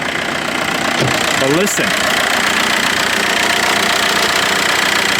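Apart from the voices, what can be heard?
Volkswagen Jetta diesel engine idling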